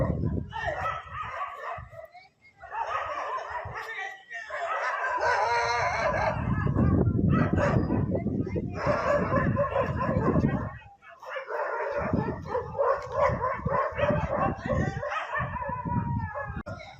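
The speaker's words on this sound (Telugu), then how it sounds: "ఈ గ్రామంలో కుక్కలు గుంపుగా చేరి ఎలుగుబంటిని వెంబడించడంతో అది గ్రామం వెలుపలికి వెళ్లిపోయింది." Village dogs bark in an excited pack while chasing a bear, with overlapping barks and yelps fairly close and loud, some cluck-like calls mixed in, and steady activity throughout.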